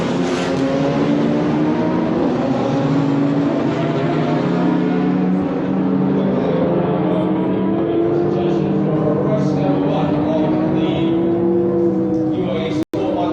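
Race cars of mixed makes, including Mercedes, Porsche, Ferrari, Fiat, BMW and Renault Clio, pull away from the start line at Dubai Autodrome, a dense loud roar of engines rising in pitch together, with a commentator talking over it.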